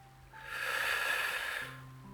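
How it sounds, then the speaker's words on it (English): Slow, deep breath drawn in through the body during a guided compassionate body scan meditation, a soft broad airy inhale swelling for about a second and a half, close and alone. "taking a few intentionally fuller breaths, breathing fully in"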